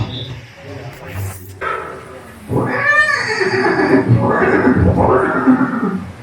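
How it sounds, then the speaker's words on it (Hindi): A horse neighs in a museum diorama of Chetak, Maharana Pratap's horse, at Haldi Ghati, a loud drawn-out whinny followed by further snorting calls, mixed with background sound and a voice. "ये दृश्य महाराणा प्रताप और सुविख्यात स्वामी भक्त घोड़े चेतक के अंतिम मिलन का है।"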